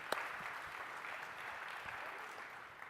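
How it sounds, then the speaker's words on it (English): Audience applause at a tech conference session, a quiet, distant patter of many hands clapping steadily, with one sharper clap near the start. "I don't have to ask for the applause"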